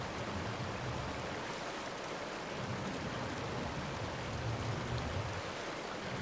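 A waterfall and stream in the game Ark Ragnarok pour with a steady, dense broadband rush, continuous and fairly loud with no talk over it.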